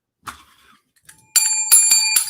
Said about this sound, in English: ring that goddamn bell